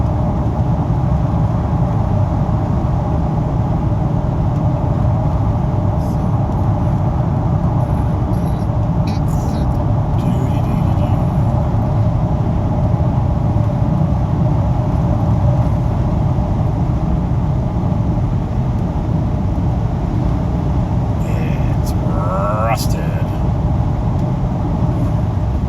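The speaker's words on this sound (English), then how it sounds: "The road ascends, so I just have to kick it down on this 7-speed Malibu that gets 31 miles per gallon." A 7-speed Chevrolet Malibu accelerates uphill, its engine and road noise forming a loud, steady, unbroken drone from inside the car, with no talk.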